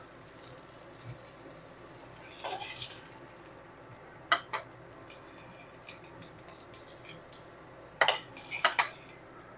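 Fried cauliflower lifted out of a wok with a utensil, faint frying sizzle under a few sharp metal clinks and scrapes spaced across the stretch.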